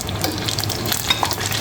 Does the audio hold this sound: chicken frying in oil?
yes